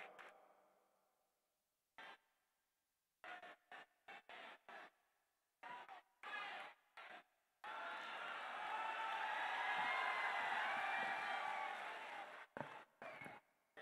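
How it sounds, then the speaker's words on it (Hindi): Audience applause for the poet Irfan Izhar at a mushaira, a poetry gathering in Aligarh, arriving in scattered early bursts and then swelling into a sustained, broad round of clapping that fades out with a few final claps. "जनाब इरफान इजहार साहब, तालियां बजा दीजिए"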